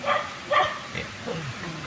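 A few short, high yips and whimpering barks from a small dog, quick and close, with faint background noise.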